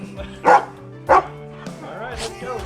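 Doodle dogs bark excitedly before heading out for a car ride to the dog park, giving two sharp, loud barks followed by higher whining yips, all close to the microphone.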